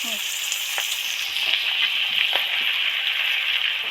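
Live prawns frying in a pan, a loud close sizzle with crackling and intermittent sharp spitting pops throughout, no talk.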